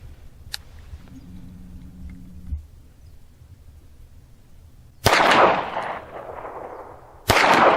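Two sharp, loud pistol reports from a 1911 fired at a shaving cream target 50 yards away on an outdoor range, spaced about two seconds apart, each with a broad crack and a fading echo after a quiet stretch of faint ambient noise.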